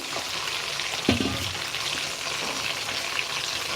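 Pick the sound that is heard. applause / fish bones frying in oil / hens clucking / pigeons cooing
fish bones frying in oil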